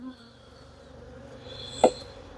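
Agitated honeybees, mostly older bees and drones, buzz faintly inside a hive box, a low steady drone with one brief louder buzz near the end.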